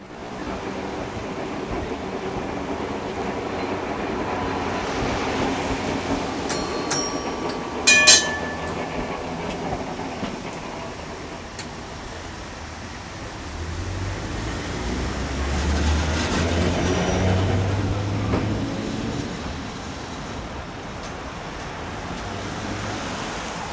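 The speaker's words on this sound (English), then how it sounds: "Ex-Melbourne W2 class number 321 was in operation yet again." Ex-Melbourne W2 class tram 321 running at MOTAT in Auckland, a steady rumble of wheels on rail with clicking joints and a brief bell-like ring midway, the low motor hum swelling later as it passes, no talk.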